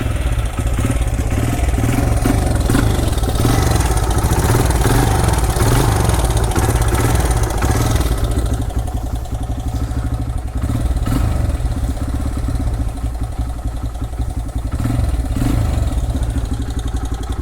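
A Honda XR100R motorcycle engine, started cold after coming out of the garage, runs steadily and loud nearby with a continuous clattery idle and slight revving throughout.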